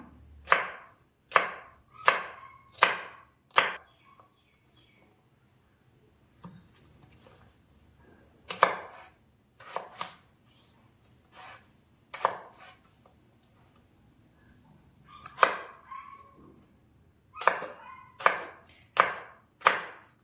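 A knife chops cucumber into small pieces for pachadi on a cutting board, sharp rhythmic taps in quick bursts of four or five, separated by short quiet pauses.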